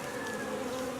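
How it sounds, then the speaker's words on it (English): Dense, steady buzzing of many bees clustered on a hive frame with their queen during a speaker box hive removal, close and continuous, no voices. "Quite a few bees on there with the queen."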